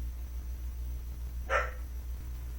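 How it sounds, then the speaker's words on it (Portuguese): A dog gives a single short bark indoors, fairly faint and somewhat distant, over a low steady hum. "eu tenho um cachorro latindo aqui"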